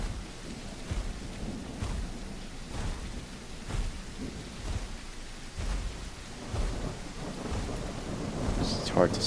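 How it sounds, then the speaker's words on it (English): Steady rain with repeated low thunder rumbles in a dinosaur survival video game, continuous and fairly loud, with a few brief thuds near the end. "Is it really raining again?"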